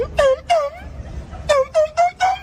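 A man mimics a revving car engine with his mouth, producing several short, rising vocal revs in two bursts, close and loud with a brief pause between them.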